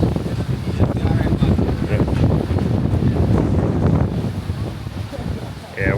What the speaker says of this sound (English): wind is definitely picking up